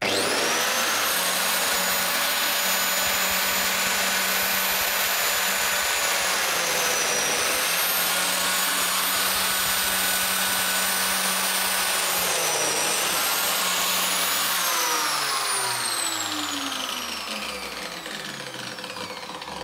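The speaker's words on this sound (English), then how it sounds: "We'll get it started up and give it a go." A biscuit joiner runs on a workbench, its loud, steady motor whine cutting a slot in a workpiece held down by hand, holding at full speed for about fifteen seconds before spinning down at the end.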